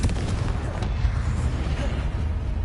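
Confringo explosive spell blasts in Hogwarts Legacy, heavy booming impacts over a rumbling low din, loud and close, with talking mixed in.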